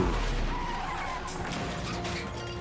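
A car skidding with tire squeal and a crash in a superhero TV episode, a loud screeching, rumbling burst of engine and road noise over a low rumble.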